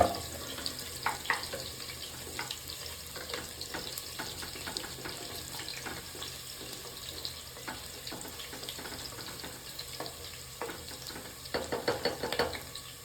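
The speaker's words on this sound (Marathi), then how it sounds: "कांदा थोडासा नॉर्मल परतलेला आहे" Onion frying in oil for a tadka, giving a steady soft sizzle with light stirring and scraping, and a few clinks near the end.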